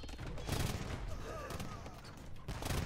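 Hand cannon fire in a competitive video game match, a dense volley of overlapping shots and booms rattling steadily through the whole stretch, with faint commentary voices underneath.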